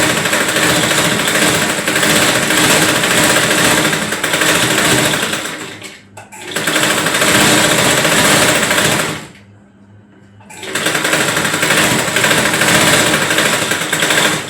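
Sewing machine stitching a seam on a young girl's frock runs in long steady buzzing bursts, stopping briefly twice between runs, loud and close with no talking.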